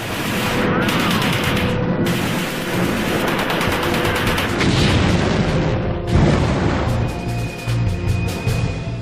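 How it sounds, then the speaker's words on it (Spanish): A battle among city buildings during the fight for Berlin, with dense gunfire crackling and heavy booms of explosions rolling continuously, loud and close, while a voice narrates over it. "Se inició un tiroteo desde los edificios de la otra orilla."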